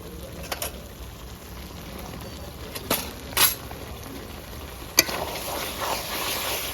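Spices with salt, cumin and coriander powder being stirred and fried in a pan for pepper chicken gravy, a soft low sizzle punctuated by a few sharp scraping and clinking strokes of a spatula, close by with no talk.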